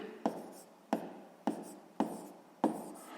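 Pen strokes on paper while working a sixth-grade maths exercise, five close, quiet scratchy bursts at a steady pace, each starting with a light tap and fading out, heard alone.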